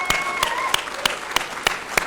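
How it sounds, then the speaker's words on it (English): Applause at a Nasdaq opening bell celebration, a crowd clapping steadily with a few sharp, evenly spaced loud claps standing out near the microphone. "Let's get a big round of applause for that."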